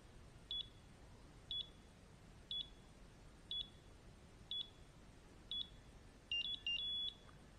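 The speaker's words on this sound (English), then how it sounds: "And you hear that little celebration beep." WaterMate smart irrigation control unit gives a series of short, evenly spaced high electronic beeps, faint against a quiet hiss, ending in a quicker double chirp.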